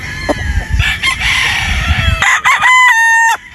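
A white straight-comb Escolin rooster at a poultry expo crows loudly and close by, with a full drawn-out call followed by a few short clucks.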